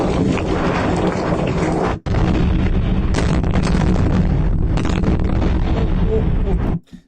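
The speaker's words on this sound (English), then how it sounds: "Listen to these explosions." Explosions from war footage of strikes roll out as continuous heavy booming and rumbling, loud and dense. There is a brief dropout near the two-second mark, then the rumble fades out at the end.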